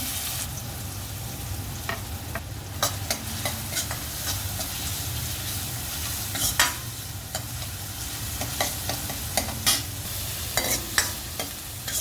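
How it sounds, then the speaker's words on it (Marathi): Finely chopped onion sizzles steadily in hot oil after cumin in an iron kadhai, with a continuous frying hiss and repeated scraping stirs of a spoon against the pan. "इथे मी एक एक कांदा मोठा होता म्हणजे तो बारीक चिरून घेतला आहे तो आपण घालूया"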